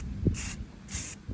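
Two bursts of black base-coat spray paint hiss from a can onto a knife-making base, each roughly a quarter-second long and separated by a short pause, fairly close and loud with faint low thumps in between.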